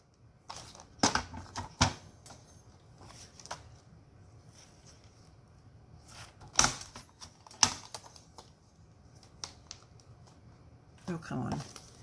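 Scissors cutting fabric for lace edge ruffles, sounding as a few sharp, close snips and crunches spread unevenly through the stretch, with a scratchy rustle near the end and a quiet room in between.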